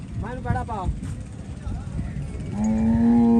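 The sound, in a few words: Nili buffalo mooing at cattle market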